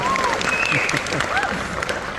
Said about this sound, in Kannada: ಒಳ್ಳೆ ಚಪ್ಪಾಳೆ